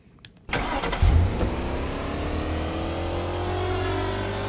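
A truck engine in the Roblox game Jason Bay FL starts up and revs loudly, then settles into a steady, sustained drone that holds to the end, with no talking.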